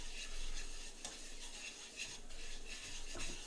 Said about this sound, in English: We're going to whisk this around. We want to cook this flour down for a minute or so.